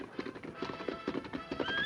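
Hooves of the horse Scout clip-clop in a quick, irregular series of close, moderate knocks as he approaches, with a faint high tone entering near the end.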